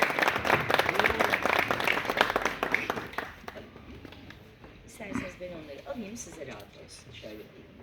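An audience at a festival exhibition event claps to welcome a student to the podium, steady applause that fades after a few seconds as talking takes over.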